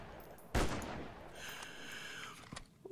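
Sniper rifle fire in a mutant-fighting video game: one sharp, loud shot bursts out, then a long ringing tail of game effects follows before fainter crackles close it out.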